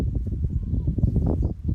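A horse working in a field makes steady clip-clop hoof sounds, low and muffled under a rumbling background, with voices talking over them.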